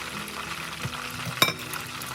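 Fried chicken sizzles in oil on a stove, a steady close crackle with a couple of utensil clicks and one sharper knock against the pan.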